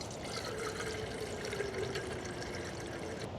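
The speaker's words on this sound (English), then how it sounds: "put in some water" Water pours steadily into a rice cooker pot for a few seconds, a soft continuous splashing fill with no talking.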